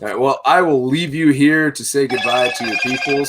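A phone rings with a repeated electronic ringtone, beginning partway through and continuing under a man's ongoing speech close to the microphone.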